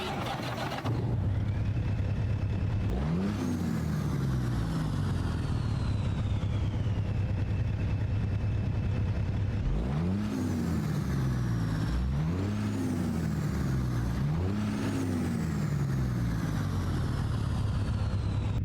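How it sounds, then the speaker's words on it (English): Peterbilt 379 truck in American Truck Simulator, with a diesel engine that cranks and catches, then settles into a low, steady idle. Several rising revs and air-brake hisses follow, close up and loud, with no one speaking. "Let's start up this truck here and let's hit the road."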